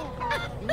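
A chicken in the video game Assassin's Creed Liberation gives a short burst of fowl-like clucks, fairly close and clear over a steady game background, with a sharper squawk near the end.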